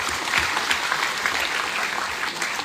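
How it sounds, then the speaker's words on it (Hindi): An audience of seniors claps steadily through the whole moment at a speech gathering, a dense, even patter of many hands with no break. "आप लोग थोड़ा सा ताली मार दीजिए"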